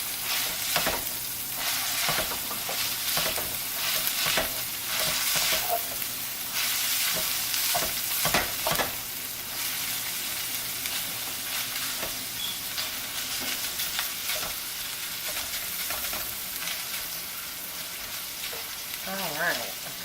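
Meat and garlic fry loudly in a pan with a constant crackling sizzle, broken by repeated scrapes and clatters of a utensil stirring through the mixture.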